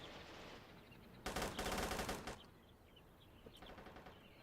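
MG34 machine guns fire in a Robz Mod tournament battle game, one sustained burst of about a second and a half, then a fainter, shorter burst further off.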